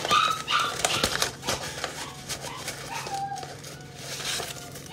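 Puppies yip and bark in short, high, excited bursts mixed with whimpers. The sounds come close and moderately loud in a scattered, uneven rhythm, and no one speaks over them.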